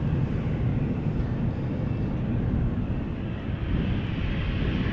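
A departing airliner at Amsterdam Schiphol Airport roars loud and close, its broad, steady jet engine rumble holding for several seconds with no voices over it.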